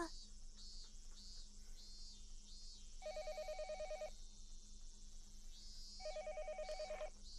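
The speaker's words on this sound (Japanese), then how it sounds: "あれ電話だ" An electronic telephone rings in the Higurashi When They Cry Hou visual novel, two short trilling rings a few seconds apart over quiet background music and an insect-like cicada drone.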